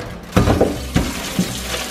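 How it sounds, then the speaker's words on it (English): Tap water splashes in short bursts over frozen beef being thawed in a kitchen sink, three distinct gushes close by with no talking. "This meat is frozen, so I'm trying to unfreeze it by putting in water."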